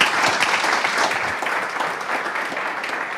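An audience at a storytelling masterclass session breaks into steady applause, a dense wash of many hands clapping that stays loud and even before easing slightly toward the end.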